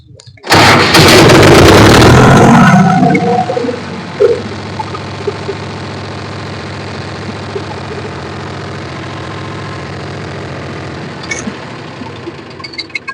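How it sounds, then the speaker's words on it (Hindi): A diesel tractor engine cranks and roars to life loudly, then settles into a steady, chugging idle that continues evenly to the end. "जैसे ही हमने ट्रैक्टर को स्टार्ट किया"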